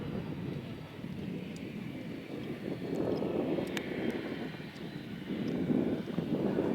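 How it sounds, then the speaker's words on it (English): A propeller airplane at the 2013 Battle Creek Field of Flight Air Show rumbles in a steady low drone as it taxis, with wind buffeting the microphone and faint distant clicks above. "Fang Maroney is coming to a stop out here."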